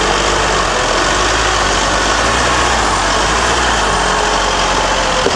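An off-road SUV with two self-locking differentials climbs a hill on Khan Mountain, its engine a loud, close, steady rumble that runs throughout with no voices.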